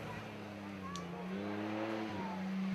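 A 4x4 winch challenge truck engine drones and revs, its pitch rising and falling as it works, with a voice talking over it.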